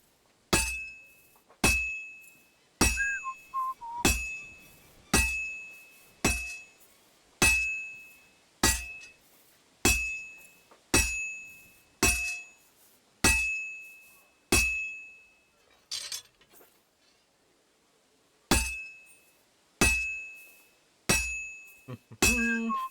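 A hammer rings on metal as a sword is forged at a smithy in Kingdom Come Deliverance 2, about fifteen bright, regular clanging strikes roughly a second apart, each decaying quickly, with a short pause near the end.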